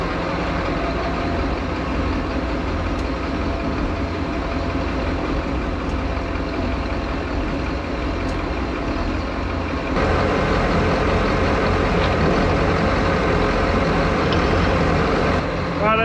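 A Detroit Diesel marine engine on a boat runs at a steady, loud, close drone while being shifted in and out of gear, with a noticeable change in tone partway through.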